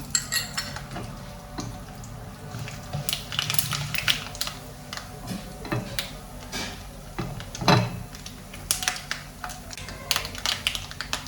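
Mustard seeds spluttering in hot oil in a pan with urad dal while cooking Kerala erissery for Onam, a steady sizzle with scattered crisp pops and occasional utensil clinks throughout.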